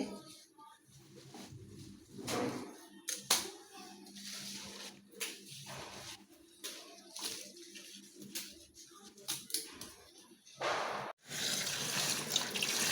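Water spinach greens being washed by hand in water, irregular splashing and trickling with intermittent handling noises and short sloshes, close and fairly quiet, with birds faintly in the background.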